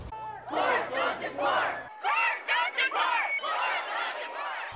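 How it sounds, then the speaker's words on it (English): A large protest crowd packed onto Lafayette Boulevard chants loudly in unison, with repeated rhythmic shouted phrases rising and falling in waves. "A lively and passionate crowd with a permit filled Lafayette Boulevard and blocked the street"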